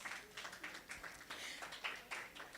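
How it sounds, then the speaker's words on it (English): A summit audience applauds at a Purple for Prematurity event, scattered clapping rising and falling in soft waves, faint and somewhat distant. "A round of applause."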